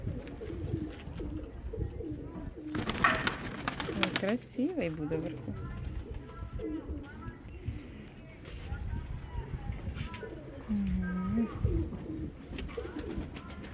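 Soft pigeon coos mixed into a busy background, with people chatting close by throughout and a brief louder burst of noise early on.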